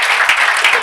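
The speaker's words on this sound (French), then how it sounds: "Applaudissez pour elle, s'il vous plaît." Brief burst of audience applause at a live comedy and entertainment show, dense steady clapping from a crowd, loud and close, with no talk over it.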